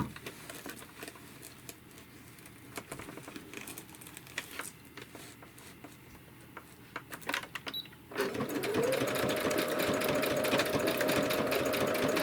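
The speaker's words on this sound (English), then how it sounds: "My sewing machine doesn't work very well" Home sewing machine stitching a washcloth soap saver pocket, first a few faint irregular clicks and taps of handling, then a steady close whirring stitch that runs continuously to the end.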